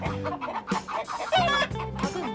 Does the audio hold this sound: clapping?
no